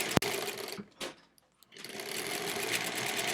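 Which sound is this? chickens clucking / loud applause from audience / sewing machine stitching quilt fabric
sewing machine stitching quilt fabric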